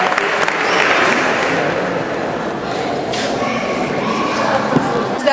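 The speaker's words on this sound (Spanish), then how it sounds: "al nuevo cónsul también, señor Raja, unos aplausos fuertes" A crowd at a charity soup dinner for Pakistan flood victims in Barcelona's maritime museum applauds the consuls, with loud sustained clapping and a few thumps.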